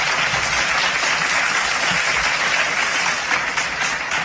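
Loud, dense applause from a ceremony audience as someone takes the stage to present an award, sustained and even, with no talking.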